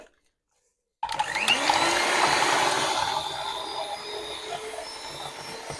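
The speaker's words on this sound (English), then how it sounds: "pour the cream into a bowl and whisk it to strong, stiff peaks" Electric whisk on high power whipping cream in a bowl to stiff peaks for pavlova, starting abruptly after a second of silence as a steady, close motor whine that holds loud then eases slightly.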